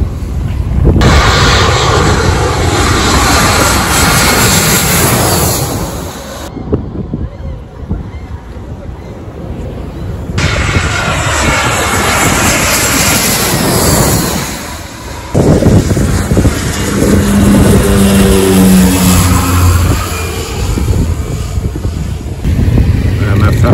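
A jet airliner passes low over the beach at the end of the Saint-Martin runway, a loud sustained roar buffeted by heavy wind noise, with people talking throughout.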